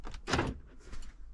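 Electric door lock actuator on a Range Rover Sport L320 clicking and whirring through a couple of short mechanical bursts, faint and close, with no talking.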